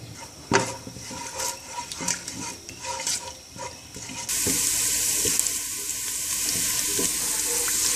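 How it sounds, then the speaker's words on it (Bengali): Chopped garlic and a whole dried chili fry in oil with a crackling sizzle and a few sharp clinks of a utensil, then a brighter, louder hiss swells and holds steady to the end. "রসুন তেলটা ভাজা হয়ে গিয়েছে"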